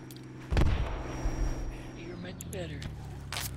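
Gunfire in the military shooter game Project Reality, with a heavy blast early on and then scattered sharper shots and rumbling battlefield noise, while a faint voice talks in the background.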